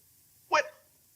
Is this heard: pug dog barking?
yes